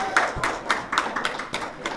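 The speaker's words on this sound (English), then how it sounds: "She deserves a big round of applause." Brief burst of audience clapping at a library celebration of the women's suffrage centennial, a fairly close, uneven patter of hands over murmuring voices.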